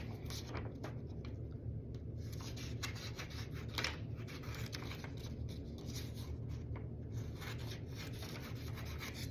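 Scissors cutting a paper sail shape along drawn lines for a small 3D-printed toy boat, a steady close rubbing, rasping snip texture running continuously and fairly quiet throughout.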